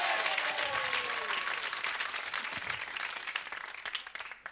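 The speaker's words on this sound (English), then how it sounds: "Give them a big round of applause, please, for our ladies." A studio audience applauds contestants on a BBC National Lottery game show, steady dense clapping that starts full and gradually thins and fades toward the end, with a faint voice briefly over it.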